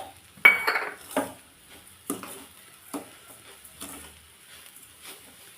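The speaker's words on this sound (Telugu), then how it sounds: "ఇలా డ్రై అయ్యేంత వరకు కలుపుకోవాలి" Grated coconut being stirred in a pan while it dries out for coconut laddus, with a series of scraping, clinking strokes of a spoon against the metal, starting louder and fading to softer periodic scrapes, no voices.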